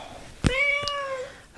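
A domestic cat gives one clear, drawn-out meow, close and fairly loud, preceded by a soft thump and followed by quiet room noise.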